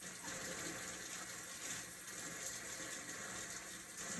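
Tap water runs continuously from a faucet as hands are rinsed beneath it, a steady close splashing gush with no voices.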